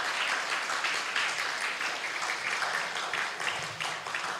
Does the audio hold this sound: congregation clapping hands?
yes